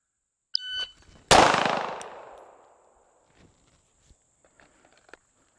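A shot timer beeps to start a dry-fire draw practice repetition, a short electronic tone followed by a sharp close click or impact that decays over about a second, then faint scattered handling taps.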